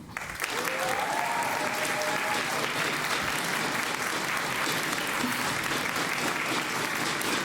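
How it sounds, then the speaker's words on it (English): Sustained applause from a large esports event crowd at a Rocket League tournament fills the whole stretch, steady and dense, with a few faint voices and whoops mixed in. "So please give a big round of applause for Machtfisch and Tanky Flo over there"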